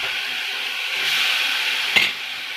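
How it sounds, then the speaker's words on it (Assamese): Fish added to a hot pan fries with a steady, close sizzling hiss, broken by one brief clack of stirring near the end; no talking. "এতিয়া মই ইয়াত মাছ দিম।"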